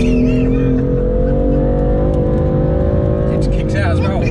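A 542 bhp BMW M4 accelerates hard with its rear wheels spinning, a loud, steady engine drone with rising pitch heard from inside the car, while people talk excitedly over it.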